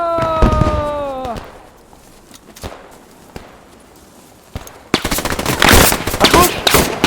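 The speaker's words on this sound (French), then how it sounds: "Linux est en train de tirer sur des mecs dans la maison" Machine gun fire in the World War II shooter Squad 44, with a rapid loud burst erupting in the final seconds after a quieter stretch of scattered single shots, footsteps and a brief tonal sound at the start.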